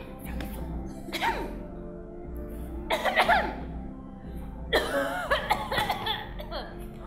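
A few short coughs and throaty chuckling sounds, close by, over a low steady hum.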